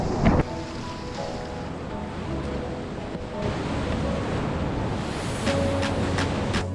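Whitewater rapids surge on the Zambezi River at low water, heard from a kayak as a continuous rushing, crashing roar of water mixed with wind buffeting the microphone, with no voices.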